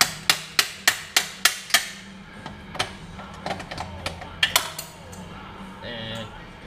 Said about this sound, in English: Good hammer.